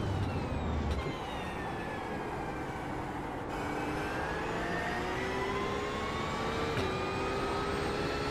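A Porsche 992 GT3 engine in the iRacing sim at Barcelona-Catalunya winds up through the gears with rising harmonic whines and brief shift breaks, loud and steady throughout with no talking.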